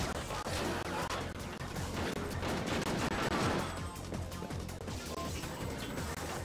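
Continuous gunfire aimed at the player in a PSP shooter played on an emulator, a dense steady stream of shots and impacts at fairly even loudness with no pauses, under game sound effects.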